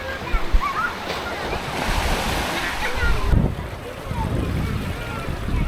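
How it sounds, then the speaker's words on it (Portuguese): Strong wind buffets the microphone at Praia da Galega beach on the Canajurê–Canasvieiras trail, a steady broadband roar blending with surf, with louder gusts rising and falling throughout. "mas está ventando forte"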